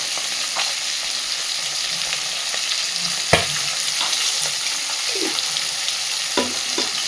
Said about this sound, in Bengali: এই তেল মাথাগুলোর এর মধ্যেই দিয়ে দিচ্ছে ফোড়নে আস্ত জিরে